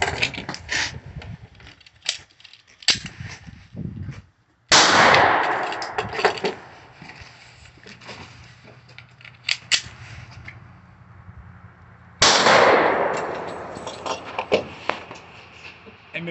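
A Glock 19 pistol fires at a shooting range: two loud, sharp reports stand out among smaller clicks and clatter, with faint voices in the background.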